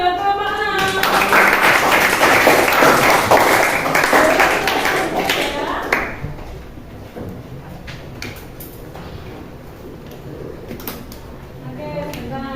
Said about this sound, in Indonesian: beri tepuk tangan buat kelompok 6